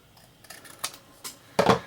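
Card paper trimmed for a shaker card, a few short crisp snips and rustles, the last one louder and longer, close and alone.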